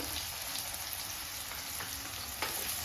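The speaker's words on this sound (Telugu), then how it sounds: "నూనె వేడైంది. అందులో 2 ఉల్లిగడ్డలు కట్ చేసి వేసుకున్నాం." Two cut onions and a few curry leaves frying in hot oil, giving a dense, even, rain-like sizzle with a few faint stirring scrapes and no speech.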